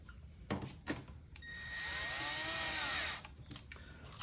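A cordless driver with a Phillips head bit runs screws through a metal hinge plate into a plastic blocker plate, giving one steady whirring burst of about a second and a half between quieter handling clicks, close and alone.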